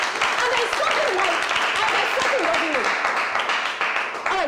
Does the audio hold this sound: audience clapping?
yes